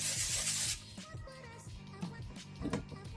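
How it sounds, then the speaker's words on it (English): A vegetable oil sprayer mists air-fried oyster mushrooms in one loud hissing burst of under a second, followed by quieter handling and rubbing sounds. "Spray them again with some vegetable"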